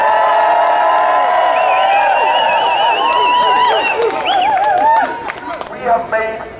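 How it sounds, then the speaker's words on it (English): A crowd at a rural campaign rally answers with loud, sustained cheering, whoops and shouted voices up close, then scattered claps and yells as it breaks up toward the end. "Can we hear a cheer for the Save Leitrim community group?"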